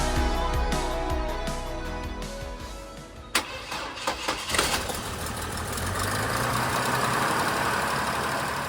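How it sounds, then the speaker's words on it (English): A 2004 Chevy Trailblazer EXT engine with a cracked exhaust manifold and a leaking manifold gasket cranks and fires up, then settles into a steady idle with a raspy, ticking exhaust note, close and loud. "As you can hear, there's still an exhaust leak."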